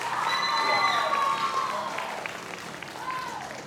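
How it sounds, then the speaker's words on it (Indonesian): Applause from an audience at a Ramadan theater performance by a theater group, moderate and steady clapping under prominent whistling or tonal sweeps and some voices, easing gradually toward the end. "Tepuk tangan sekali lagi untuk Teater Deki."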